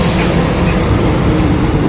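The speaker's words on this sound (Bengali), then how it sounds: "ট্রাক যাচ্ছে বড় বড়" A steady, loud rumble of large trucks rolling past on Diamond Harbour Road in Kolkata, beneath the Joka–Taratala metro flyover, with a low engine drone and broad road noise throughout.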